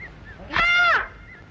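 A single loud, harmonic koel call rises out of quiet background noise, lasting about half a second before fading.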